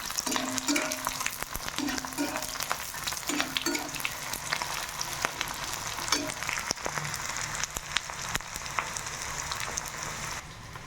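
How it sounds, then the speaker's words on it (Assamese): Onions fry in a pan for a home-style chicken curry, with a continuous sizzle and bursts of rhythmic spoon stirring and scraping every second or so, close and steady throughout. "পিঁয়াজখিনি ভাজি ল'ম আমি ভালকৈ আৰু আমি লৰাই দিম"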